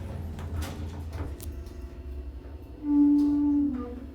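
A vintage Hadfield/Turnbull hydraulic elevator's door slides along its track with a low rumble, followed by a steady hum and a brief soft thud near the end.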